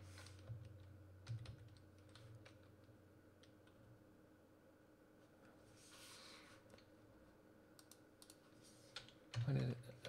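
Computer keyboard typing comes in scattered bursts of quiet clicks during a coding session, close but faint over a low background hum.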